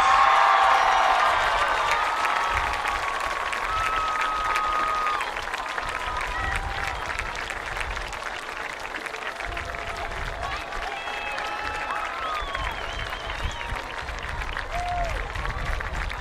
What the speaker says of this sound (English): one more round of applause for your 2018 Carroll High School Homecoming Court